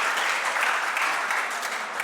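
A college crowd claps for its teachers, a thick, steady burst of applause that fills the whole short stretch, near and loud.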